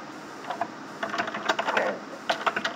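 Light typing on a computer keyboard, quick irregular clusters of key clicks, close and fairly quiet, with no talking.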